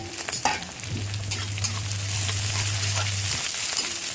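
Cumin seeds and green chillies sizzle in hot oil in a home kitchen, a steady close frying hiss with a low hum underneath, broken by a few crackles and the stir of a utensil.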